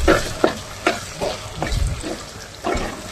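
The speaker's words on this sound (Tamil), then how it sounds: "வெங்காயத்தை நல்லா கிண்டி விடுங்க." Onions stirred and frying in a pan for fish gravy: a steady sizzle broken by several distinct scraping stirs at irregular intervals, close up with no talking.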